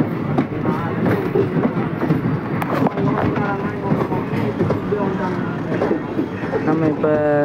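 A train, the Tirupati Express, rolling past nearby with a steady rumble and rhythmic wheel clatter over the tracks, voices talking over it throughout.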